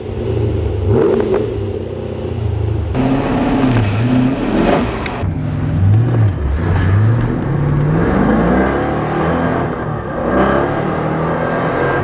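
A supercharged Corvette engine revs repeatedly during a test drive, rising and falling in pitch as it accelerates, loud and close, with no talking.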